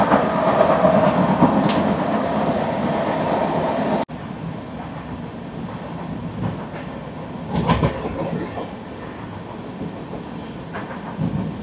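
The Mangla Lakshadweep superfast express train moves through Mumbai with a steady, loud rumble, rolling wheel noise and occasional louder rattles and clatter, heard from on board.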